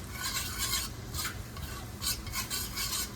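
Chicken curry with pepper being stirred in a pot, a scraping, rasping spoon against the pan in repeated strokes with faint sizzling, close and moderately quiet.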